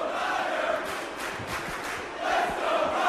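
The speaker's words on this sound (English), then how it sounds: "The fans are cheering Ryder's name" Wrestling crowd at a televised Superstars show chanting a wrestler's name, a dense, loud roar of many voices with rhythmic surges rising and falling throughout, no clear single voice on top.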